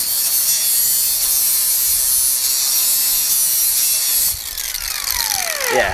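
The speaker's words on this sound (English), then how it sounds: "Cordless die grinder. Death wheel. Listen to that thing." A cordless die grinder fitted with a cutting wheel runs close and loud in a steady high-pitched whine, then winds down in a falling tone at the very end.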